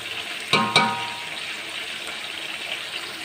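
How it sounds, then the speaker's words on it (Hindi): Beef frying in a pot for haleem, a steady close sizzle with two brief clatters early on, like a spoon stirring against the pot. "गोश्त को इस तरह से फ्राई करें कि इसका कलर जो है गोश्त का वो चेंज हो"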